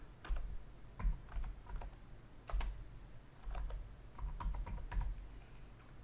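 Keys tap on a computer keyboard in short, uneven clusters of close, crisp clicks separated by brief pauses, with no talking.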